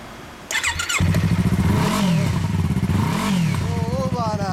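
A 2015 Yamaha YZF-R25 motorcycle with an OVER aftermarket exhaust fires up and idles with a deep, burbling exhaust, then gets blipped twice in quick revs before settling back, loud and close.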